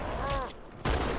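Gunfire during a Halo 2 co-op campaign mission, a dense game fusillade that fills the clip, with a brief dip midway before a loud burst of shots returns.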